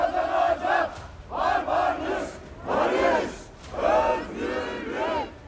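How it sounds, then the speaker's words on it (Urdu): A large crowd of protesters in Caracas, rallying in support of Nicolás Maduro and against the United States, chants slogans in loud, rhythmic bursts: roughly five surging shouted phrases separated by short dips. "ہزاروں افراد نے صدر نکولس مادورو کے ساتھ اظہار یکجہتی کیا اور امریکہ کے خلاف شدید نعرے بازی کی۔"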